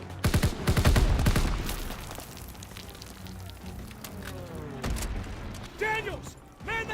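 Anti-aircraft gun and gunfire in a Call of Duty WW2 battle: heavy rapid bursts of close fire at the start, then scattered shots, mechanical clanks and shouting voices over the din.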